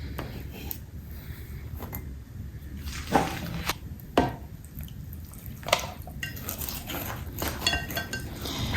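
Compound stirred with a fork in a container, producing soft scraping, clinking and wet squishing strokes with a few sharper knocks against the container, close and moderately quiet, no talking.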